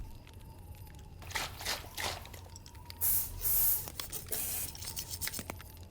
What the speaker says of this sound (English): Some universal spray and lovely jubbly.